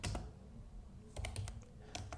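Python code being typed on a computer keyboard, a quick close run of sharp key clicks in small clusters over about two seconds, with no voice.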